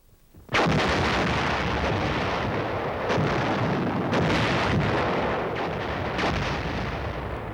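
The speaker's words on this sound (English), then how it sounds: "The howitzers to drop their explosives on the other side of the hill to prevent reinforcement or retreat" A howitzer artillery barrage fires explosives in a continuous roaring rumble after an abrupt onset, with several heavier booms rising out of the dense, loud wash of blasts.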